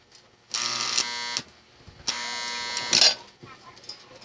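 A welding machine built from a microwave-oven transformer with a rectified output strikes its arc in two sustained buzzing, crackling bursts close by, each lasting about a second, with brief pauses between them.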